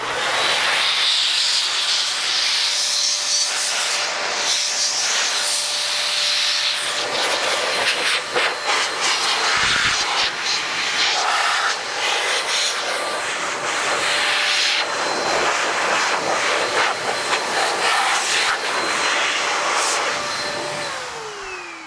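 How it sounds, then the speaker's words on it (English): Air blower drying a car's side mirror: a loud, steady roaring rush of air running almost the whole time, with slight shifts in pitch as the stream moves, fading at the very end. "as I'm blowing on the mirror, it ends up going right back on the area that I just blew off"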